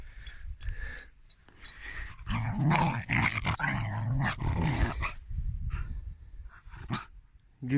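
Close by at a carp fishing spot, a dog growls and lets out a few barks, sometimes under people talking, then goes quieter toward the end.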